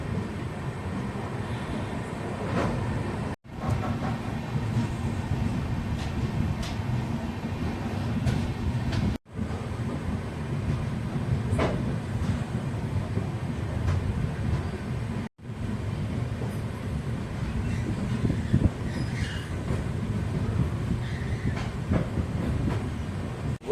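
A train rumbles steadily along the rails with rhythmic clatter and hum, continuous and close, broken by a few brief gaps in the recording; heard from a 3rd AC coach just departed Manamadurai Junction toward Rameswaram.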